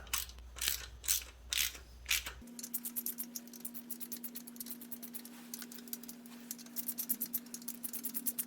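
Bolts on a Honda CB900C DOHC upper cam chain tensioner are gently snugged up by hand with the engine in place, giving rapid, quiet ratchet clicks in a steady run after a few louder handling knocks.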